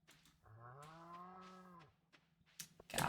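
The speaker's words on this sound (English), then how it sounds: "Cows." A single long cow moo, fairly close and clear, rising then holding steady for over a second before cutting off, followed by brief scattered noises.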